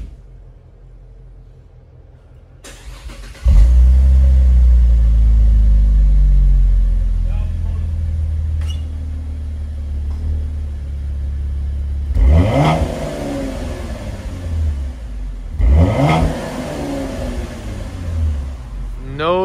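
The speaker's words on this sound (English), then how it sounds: "start it up, let y'all hear what it sounds like stock, and do a couple revs" A stock car engine fitted with K&N air filters cranks and fires up with a loud burst, settles into a rumbling idle, then gets revved twice in sharp, rising surges that fall back to idle.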